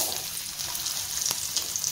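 Oil heats in a kadai for frying and sizzles with a soft, continuous close hiss marked by small crackles, and no one talks.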